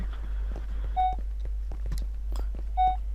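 A tracker device in the Minecraft mod Alien: A Crafters Isolation gives two short, clear electronic beeps spaced about two seconds apart over a low steady hum and faint footsteps.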